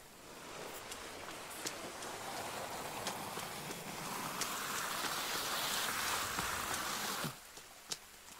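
Steady rain pours down in the survival game The Forest, a dense continuous hiss that holds for several seconds, swells slightly, then cuts off near the end with a couple of faint knocks.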